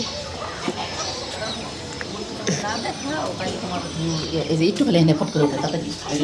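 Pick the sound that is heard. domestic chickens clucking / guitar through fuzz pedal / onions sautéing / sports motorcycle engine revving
domestic chickens clucking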